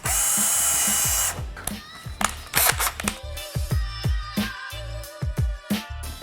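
A power drill bites into a Toyota Tacoma truck bumper valance, starting with a sustained loud whine, then breaking into short repeated bursts and clicks up close as the bit works through.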